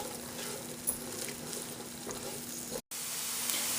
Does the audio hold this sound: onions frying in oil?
yes